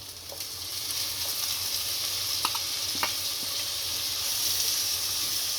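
Tomatoes go into frying onions for kaju masala, a steady close sizzle and hiss with a few light clinks and stirring scrapes of a spoon in the pan, with no talking.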